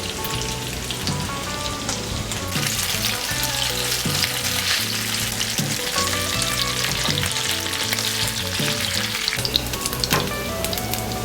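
Polenta pan frying in a good amount of oil, a steady close sizzle and crackle with occasional stirring, no talking.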